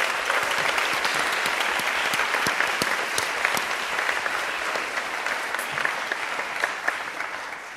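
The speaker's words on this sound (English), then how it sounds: "Can we give them a round of applause?" Steady applause from an audience at a panel discussion on women, mass incarceration and reproductive justice, dense clapping sustained evenly throughout at moderate level, no voices.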